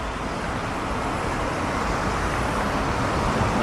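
Busy road traffic on a St Helens–Southport route in 2006, with buses among the vehicles, a steady broadband rumble of engines and tyres close by, continuous and loud throughout with no talking.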